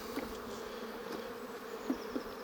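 Many honeybees at an open hive buzz steadily up close, a continuous droning hum with no voices.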